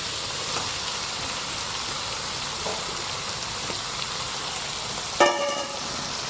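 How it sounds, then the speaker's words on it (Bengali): Pieces of ash gourd go into hot oil with tempering spices, giving a steady, close sizzling hiss throughout, with a brief clatter of a utensil near the end. "তেল গরম হয়ে গেছে, ফোড়ন হয়ে গেছে, দিয়ে দিলাম চাল কুমড়ো।"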